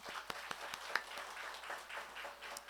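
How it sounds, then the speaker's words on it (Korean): A church congregation claps in welcome during an online Sunday service, quiet and fairly distant, with steady rhythmic hand claps for a few seconds. "우리 모두 다 환영하는 의미로 우리 박수하겠습니다."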